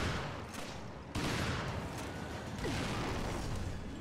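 Gunfire in Resident Evil Revelations, aimed at tentacles: a dense run of shots forms a sustained loud barrage for about four seconds, with a sharper burst near the one-second mark.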